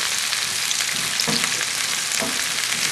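Onions and pasilla peppers fry over medium-high heat in a pan, a steady loud sizzle with two brief bursts of louder crackle as the vegetables are tossed, no voices.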